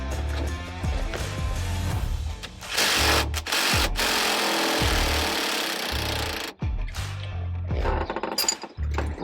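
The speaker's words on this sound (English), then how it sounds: "Now we're going to take our 15/16 socket with an impact and get this nut off here." An impact wrench fitted with a 15/16 socket hammers off the steering wheel nut on a 1968 Mustang, giving loud rattling bursts with short pauses between them. Clanking of tools is heard close by.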